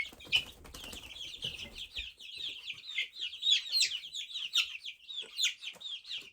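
A chick or young hen chirps and clucks rapidly and repeatedly, with a brief burst of wing flapping at the start, close by.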